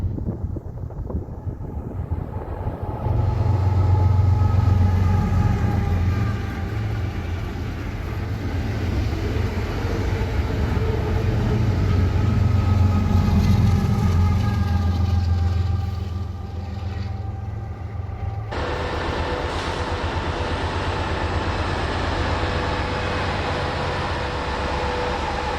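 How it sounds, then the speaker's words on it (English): Seven light Union Pacific locomotives roll west over Donner Pass in winter, a steady low diesel rumble and drone holding loud and close for the whole stretch, shifting in tone partway through. "A set of 7 light engines soon rolled west as I made my way to lunch."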